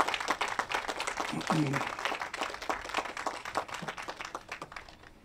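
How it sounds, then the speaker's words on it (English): Applause at a Pride flag raising event, scattered clapping from a modest outdoor crowd that fades gradually, with voices talking over it. "How about another round of applause for her?"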